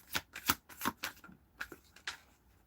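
A deck of cards is shuffled up close in a series of sharp riffles and taps, about seven distinct bursts spaced irregularly, with no talking.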